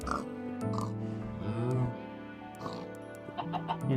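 Blocky Minecraft chickens and pigs in a game barnyard trade clucks and grunting oinks, several short calls overlapping in quick succession against a continuous bed of game noise.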